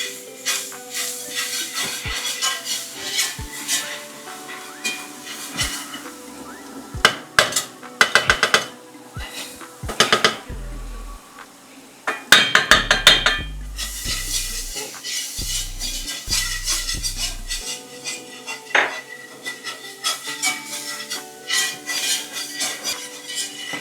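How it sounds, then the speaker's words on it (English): Grated garlic gets whisked into a pan while making Georgian shkmeruli chicken with milk, giving a steady scraping stir with sharp metallic clinks and knocks of utensil on cookware and a faint sizzle underneath, close up and without speech. "And then we're gonna go in with our grated garlic. And whisk that in there as well."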